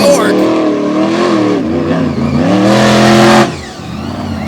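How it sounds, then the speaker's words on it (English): A blue Chevrolet Silverado race truck at the TN/GA State Line track, loud engine revving with rising and falling pitch and a sharp drop in power near the end, with talk over it. "Laying it down in the beautiful blue Silverado out of New York."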